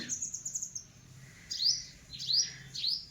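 Sparrows chirp in short high bursts, a few sharp tweets separated by pauses, fairly close and with no talking.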